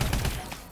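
Rapid AE4 energy weapon gunfire in the video game Call of Duty: Advanced Warfare: a dense, loud burst of repeated shots that fades slightly over a brief moment.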